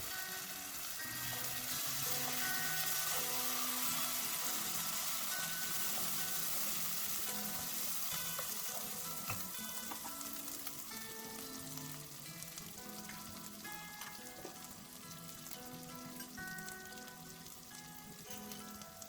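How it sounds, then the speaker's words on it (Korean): Garlic and ginger paste frying with onions in a pan, a steady close sizzle with light crackles and stirring scrapes throughout, no talking. "페이스트 넣고 한 1분 정도 볶으면 좋을 것 같습니다"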